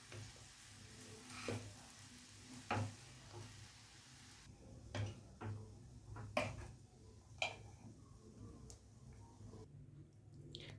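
Poha being stirred in a pan after salt is added, with soft sizzling under a steady low hum and intermittent scraping clicks of a spoon against the pan, close and fairly quiet, no talking.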